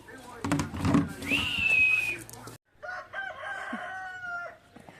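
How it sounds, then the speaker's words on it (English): A rooster in a rural Mexican yard lets out one loud, nearby crow with a long held note, while people talk and move around; after a brief drop, voices and softer clucking continue. "That rooster always crows when we're about to leave"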